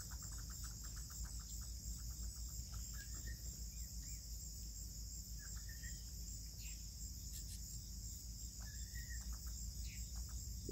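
Crickets and other insects chirp steadily outdoors at night, a constant high shrill layer with intermittent short trills and calls over a low background hum, no voices.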